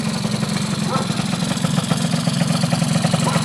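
A Honda Dio scooter from 2014 idling steadily, a loud, even low putter with no revving, running alone for a few seconds.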